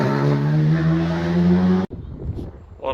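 A Banbridge to Scarva rally car roars close by with a loud, steady engine drone that cuts off abruptly, leaving faint wind and outdoor noise before another car begins to approach.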